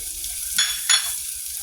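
Garlic and onion sauté in a hot pan as the base for squid adobo, a steady close sizzle broken by two sharper scraping stirs.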